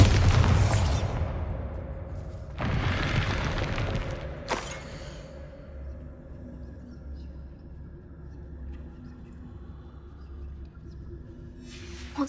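Bombarda spell explosion in the Hogwarts Legacy video game: a loud booming blast at the start, a second burst shortly after, then a sharp crack, fading into low rumbling ambience.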